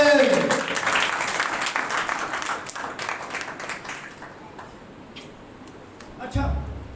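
Church congregation at a Pentecost service clapping loudly together, a dense burst of applause that gradually thins and fades, with a voice rising near the end.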